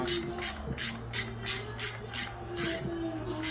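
Front wheel nuts on a kids' bike being tightened with a ratchet, producing a close, regular series of about a dozen quick clicking pawl strokes.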